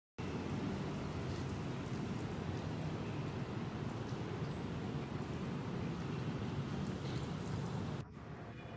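Steady, dense rain pours outside the Indonesian textile museum in central Jakarta, a loud continuous wash that drops off abruptly near the end, with no speech.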